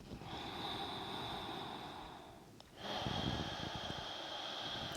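Deep, slow ocean-like breathing during a gentle yoga movement, a long steady rush of breath, then a brief pause, then a second, stronger breath, close and alone.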